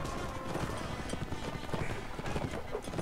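Horse hooves clip-clop in Mount and Blade: Warband, a fast run of sharp hoof strikes over busy battle noise, moderately loud and continuous.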